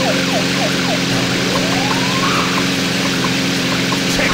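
Police car siren in the Thrill Drive 2 arcade driving game, a repeating wailing tone rising and falling over a steady, loud bed of engine and traffic noise, with no talking.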